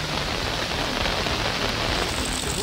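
Heavy monsoon rain pours down in a dense, unbroken hiss of countless drops striking surfaces, loud and steady throughout with no voices.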